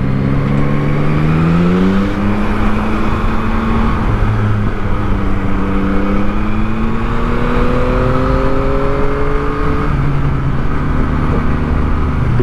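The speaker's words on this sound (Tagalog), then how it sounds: "Kahit na paakyat, ang lakas pa rin ng power niya." Yamaha MT-09 motorcycle engine pulling hard uphill, a loud continuous drone whose pitch rises and falls as the rider works through the revs, heard close with wind rush and no talk.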